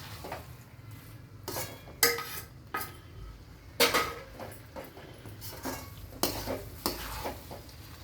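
Paneer being stirred into masala in a pan, with intermittent clinks and scrapes of a spoon against metal over a faint, low sizzle. The cooking sounds come in separate bursts with quieter gaps between them, and no one speaks.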